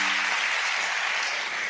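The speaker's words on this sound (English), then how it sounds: "Let's give them both a round of applause." A short burst of steady applause from a crowd, dense clapping that holds evenly throughout.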